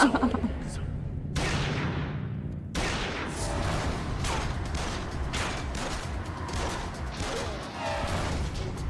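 Rapid bursts of gunfire in the game Yakuza Kiwami crackle and boom under steady talking, with sharp impacts repeating throughout.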